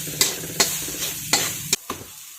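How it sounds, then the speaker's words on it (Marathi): Green chili sautéing in hot oil as a tempering for coriander sabzi: a steady close sizzle broken by four or five sharp spatula knocks against the pan, with no talking. "मिरची छान परतून झालेली आहे."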